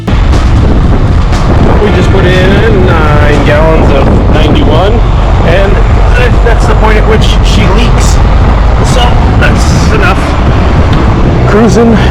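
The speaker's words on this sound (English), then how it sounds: "It's really windy." Heavy wind buffets loudly against the microphone while driving in a 1964 Pontiac Bonneville convertible, a deep roaring rumble with a voice talking underneath.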